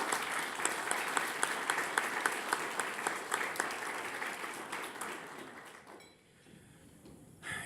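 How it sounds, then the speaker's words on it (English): Audience at a chamber of commerce business awards night at a golf club breaks into sustained, dense applause that fills most of the moment before tapering off near the end. "If I could have a round of applause for all them."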